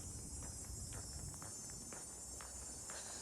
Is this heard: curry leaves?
no